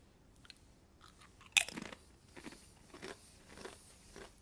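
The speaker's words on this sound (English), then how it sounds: "It's nice and crunchy and very lightly flavored." Salt and pepper bean and rice chips being bitten and chewed close up, a sharp crunch on the first bite followed by a run of quieter, irregular crunches, with no talking.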